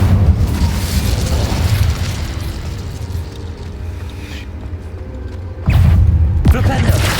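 A fiery Incendio spell erupts in a wizarding video game, a loud sustained whooshing burst that fades and then flares again near the end, with game speech mixed in.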